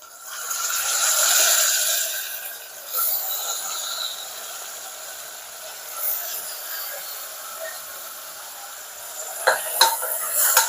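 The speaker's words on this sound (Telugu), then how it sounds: "మటన్ కూడా వేసేసి మంచిగా కలిపేసి ఒక్క 2 మినిట్స్ ఆయిల్లో మగ్గనివ్వండి" Mutton pieces stirred into hot oil in a pan for gongura mutton: a soft steady sizzle with scraping stir strokes and a few clinks of a utensil against the pan near the end, no talk.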